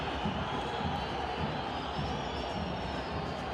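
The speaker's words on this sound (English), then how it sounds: "Crowd is uproarious." A football stadium crowd roars steadily during a Concacaf League match between Alianza FC and LD Alajuelense, a broad continuous wash of noise without breaks.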